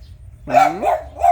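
A single dog gives a close, loud, tonal bark that bends upward, then adds two shorter yelping follow-ons in quick succession over a faint low background hum.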